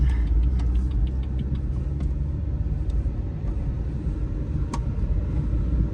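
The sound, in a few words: BMW M2 car pulling up to an alignment shop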